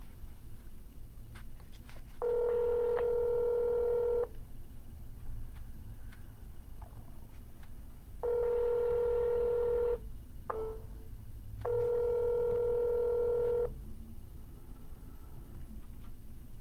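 Three long touch-tone bursts ring out one after another, each lasting around two seconds with short gaps between, as a phone number is dialed during a cold call. They stand clear and loud over faint background hiss.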